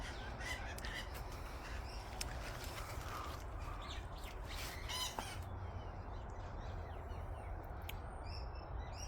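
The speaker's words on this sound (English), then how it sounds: "those guys that you're hearing, those parrots" Parrots call among guava trees in a Melbourne garden in midwinter, harsh squawks and raucous cries repeating at moderate distance over a steady outdoor background hum.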